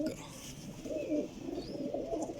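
Several parwazi pigeons give low, rolling coos in overlapping bursts, near and moderately quiet, with faint background noise.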